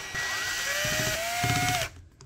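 Screws coming out of a Hyundai Santa Fe electronic parking brake module under a power driver, heard as a steady, close whirring motor with a rising whine and rattling grind that stops abruptly.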